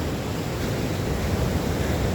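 Evening surf breaking along a coastline beach comes through as a steady, unbroken roar of rushing water and wind with no voices.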